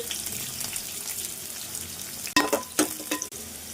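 Onions fry in oil in a pan for Telangana-style egg soup, giving a steady close sizzle that is broken late by a few louder clattering stirs.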